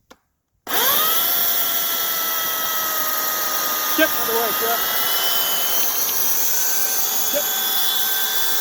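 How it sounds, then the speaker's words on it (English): An electric chainsaw starts up abruptly after a brief pause and runs as a loud, steady, high whine while cutting through willow wood for a homemade woodshed. A few short spoken words come over it. "Show you how good electric chainsaw is."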